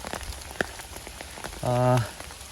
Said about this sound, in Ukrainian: А сьогодні зайшов ліс, а тут дощ.